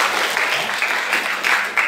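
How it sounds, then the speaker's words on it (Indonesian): A group of management students at a leadership training session clap together in a lively, sustained round of applause that swells and stays dense for about two seconds, nearby and with no talking. "tepuk tangan dulu untuk kita semua."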